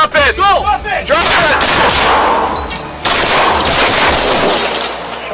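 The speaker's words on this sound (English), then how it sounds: "At that point, officers opened fire." Police officers open fire in a real confrontation, a rapid burst of loud, close gunshots with ringing metallic echoes that carries on nearly continuously, followed by a second volley after a brief dip.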